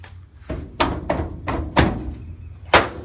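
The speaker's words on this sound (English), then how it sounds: "We'll drop this gate on this side here." A 1959 Dove Blue single-cab pickup's tailgate being dropped open, a series of five or six close, heavy metallic thunks and clanks with no talking.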